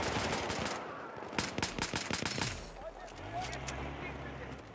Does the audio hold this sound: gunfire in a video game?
yes